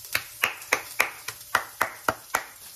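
A knife chops an onion on a cutting board, about ten crisp evenly spaced knocks in quick steady rhythm, close and clear with no talking.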